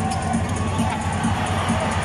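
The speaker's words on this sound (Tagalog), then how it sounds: "Sobrang hiyawan po dito yung mga tao kapag nakakasundo ang Barangay Negra" A dense arena crowd at a basketball finals Game 7 between TNT Tropang Giga and Barangay Ginebra roars and cheers in a steady, loud wash of many voices with no single speaker standing out.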